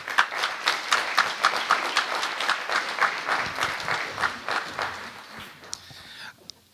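A local debate audience in Le Havre claps, a dense steady applause with rhythmic peaks that carries on for several seconds before thinning to a few scattered claps at the end.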